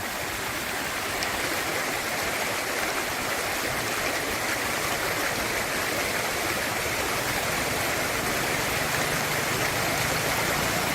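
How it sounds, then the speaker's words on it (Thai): Fast floodwater from the overflowing Yom River rushes across a road in Phichit, Thailand, a steady, loud broadband roar of flowing water that holds constant throughout without voices. "น้ำไหลข้ามถนนอย่างที่เห็นนี่แหละครับไหลแรงมากครับ"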